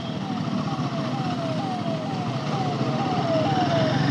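An ambulance siren wails in repeating falling sweeps over road and motorcycle engine noise, growing slightly louder as it approaches.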